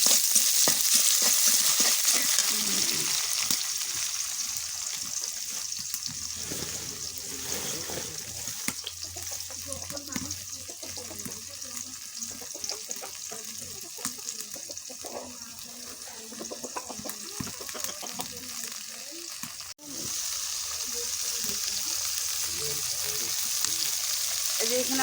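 A paste of ginger, garlic and cumin fries in hot oil in a pan alongside onion and green chilli, a loud, continuous sizzle with scraping stirring noises mixed in, close up throughout.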